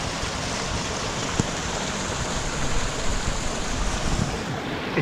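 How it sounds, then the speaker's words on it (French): Steady broadband rush of water flowing nearby at the Glandieu waterfall, continuous and fairly loud, with no voices. "Et encore de l'eau. Ça coule de partout."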